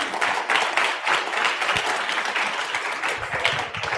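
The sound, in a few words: audience applause for tournament winners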